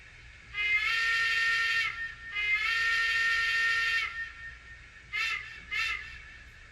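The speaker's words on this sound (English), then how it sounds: "I chose whistle number 87, which is the D&RGW 8-inch single-chime whistle" A model locomotive steam whistle, a D&RGW 8-inch single-chime, sounds two long chime blasts followed by two short toots, with a soft hiss underneath, fairly close.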